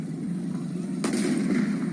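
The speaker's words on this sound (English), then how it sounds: "That was the sound of gunfire." A single sharp gunshot fired by riot police at a farmers' protest camp in Isfahan, Iran, cracks out midway through, followed by a brief echoing tail over a low steady background.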